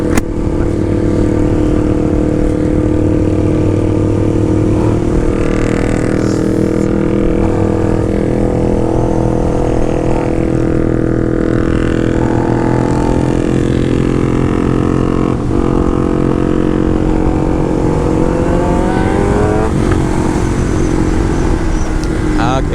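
A Kawasaki ZX10r sportbike on a group ride along the ECR coastal road gives a loud, continuous engine drone with rising and falling throttle revs, heard up close over wind for a sustained stretch.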